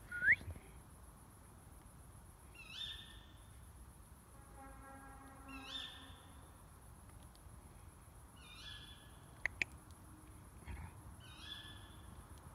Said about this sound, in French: C'est rien, gamin, c'est un oiseau.